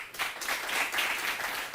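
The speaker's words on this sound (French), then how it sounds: "je vais devoir vous demander d'applaudir Jeannette qui nous vient de Kindia" Studio audience applause on a TV quiz show, a steady, dense wash of clapping filling the short moment at an even level with no voices.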